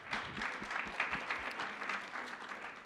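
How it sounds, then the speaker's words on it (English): A conference audience gives a steady round of applause, a continuous wash of clapping from a room of people. "Round of applause for them."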